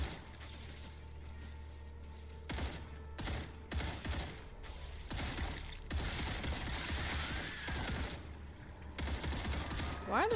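Gunfire in the sci-fi video game StarRupture, with repeated bursts of shots and thuds close by, some loud volleys breaking out amid steady background machine hum, with a voice talking at times.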